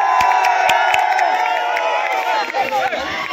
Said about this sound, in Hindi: और यहाँ पे देखिए यहाँ भीड़ हो रही है